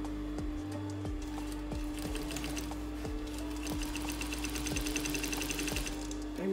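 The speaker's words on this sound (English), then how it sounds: "I'm going to show you how to machine. So I'll go on the machine." A sewing machine runs steadily while stitching a trouser pocket, a close, continuous whirring hum with a rapid regular needle rhythm and a few soft clicks.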